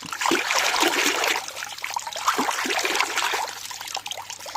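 Herb roots scrubbed clean of soil in water, a steady trickling and splashing with rubbing motions, close and continuous.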